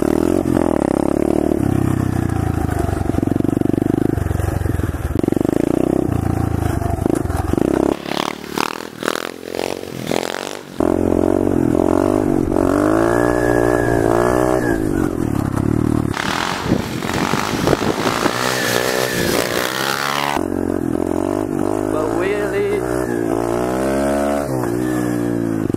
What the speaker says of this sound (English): Now it's time to pull some wheelies. You can start her up now.